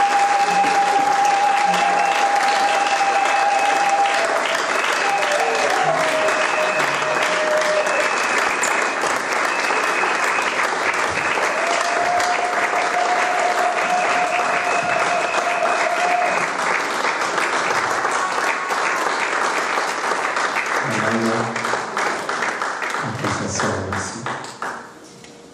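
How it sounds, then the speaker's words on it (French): A church congregation applauding loudly for the Lord: dense, sustained clapping from a large crowd that lasts over twenty seconds, with voices and tones mixed in before it tapers off near the end. "Est-ce que tu peux acclamer très fort pour le Seigneur?"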